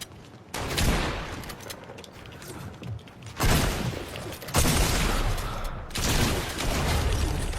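Double pump shotgun fire in Fortnite Chapter 1 comes as loud, heavy blasts with mechanical reload clatter, arriving in dense bursts that fill the mix, with no voices over them.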